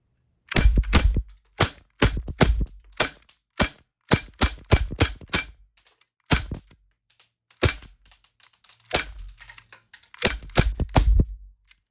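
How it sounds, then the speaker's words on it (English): An Umarex Beretta airgun emptied in a rapid magazine dump, sharp close snapping shots fired in quick bursts and clusters with short pauses between them, loud and alone without talk. "we're just gonna do a mag dump with the Beretta"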